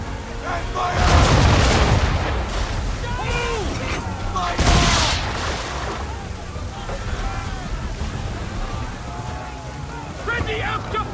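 Cannon and musket volley in the Assassin's Creed III video game, two heavy booming blasts with rumbling tails, followed by shouted commands and a busy battle backdrop.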